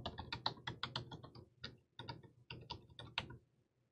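A password is typed on a computer keyboard in a quiet room. About twenty quick, light key clicks come in short uneven bursts, close by and fairly faint.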